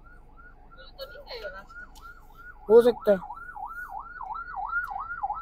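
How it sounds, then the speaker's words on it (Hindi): An ambulance siren wails steadily in a rising and falling pattern, moderately loud, through busy traffic near a livestock market, with someone briefly talking and short horn or voice bursts in the middle. "एम्बुलेंस भी जा रही है,"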